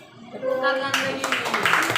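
Young students in a classroom break into applause, a burst of clapping hands that rises abruptly after a brief spoken cue and continues densely to the end.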